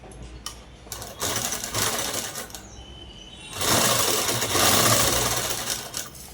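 A sewing machine stitching a long frock, a loud, fast, continuous mechanical rattle in several runs, pausing briefly and then speeding up into a longer, louder burst near the end.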